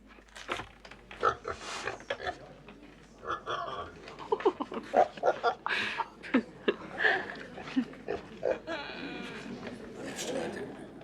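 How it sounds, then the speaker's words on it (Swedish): Piglet grunts and bleat-like squeals from a young pig in a Swedish farm setting, recurring in short bursts throughout amid people talking nearby. "Det är en gris, vet jag."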